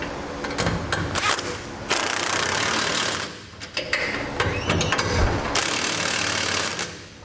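Ratchet tightening bolts on an etrailer hitch receiver being mounted to a 2016 Chevrolet Silverado 1500, heard as close, rapid mechanical clicking bursts that stop and restart several times, alone without talk.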